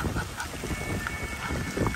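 Ducks outdoors give several short, scattered quacks and honks, near and moderately loud, over a soft background of ambient noise.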